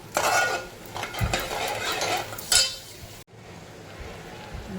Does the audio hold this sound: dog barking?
no